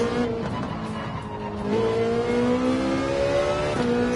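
A Ferrari 458 race car engine in Gran Turismo 7 revs high and climbs in pitch through a gear, steady and loud with a faint tire squeal, no speech.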